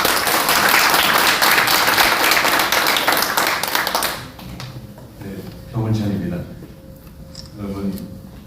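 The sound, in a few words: applause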